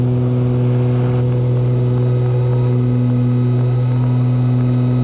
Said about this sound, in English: Props are synced nice.